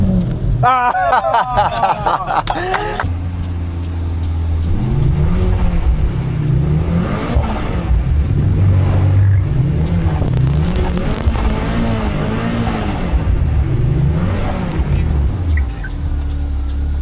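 A Mercedes-AMG car, a C63, GT63 or CLE53, drifts on a track. Its loud engine rises and falls in long revving sweeps, with a sharp burst at the start, while a person talks over it.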